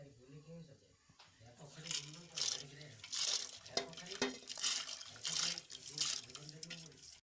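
Washed lentils poured into hot water make a close, splashing rush of liquid in repeated pulses over several seconds, with a voice speaking at the same time.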